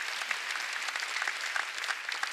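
Church congregation clapping during a Sunday worship service, a brief, even burst of many hands applauding together at moderate distance, with no talk over it.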